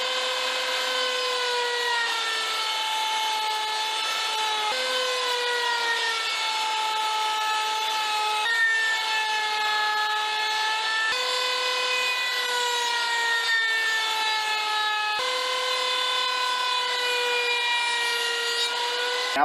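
A router table cuts a decorative edge along the top of a wooden ant farm base, giving a steady, loud, continuous high whine with sustained harmonic tones and brief dips as the piece moves around.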